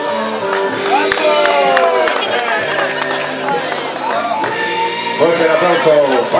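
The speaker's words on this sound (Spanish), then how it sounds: "Fuerte el aplauso para ellos." Spectators at a cyclocross race in Burgos clapping and cheering for riders, a continuous crowd roar with voices mixed in, loud and even.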